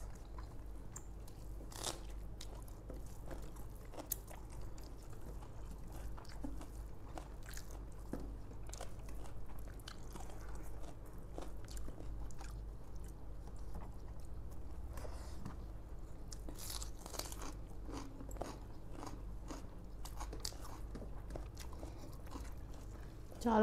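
Crunchy chewing and biting of chicken fried biryani, steady close-up mouth sounds with repeated crisp bites and crackles over a quiet room background, eaten during an eating challenge.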